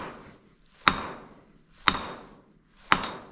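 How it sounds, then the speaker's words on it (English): Three sharp, ringing hammer blows strike a massive chunk of copper ore in an abandoned copper mine at night, evenly spaced about a second apart, each a bright metallic clank with a short decaying ring. "this massive chunk doesn't even move a bit when hit with a hammer."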